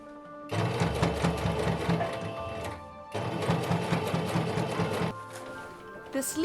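A sewing machine runs in two long bursts stitching the sleeves of a cotton kimono for a historical cosplay, with a steady rapid mechanical whir, a brief pause between runs, and a shorter third burst near the end.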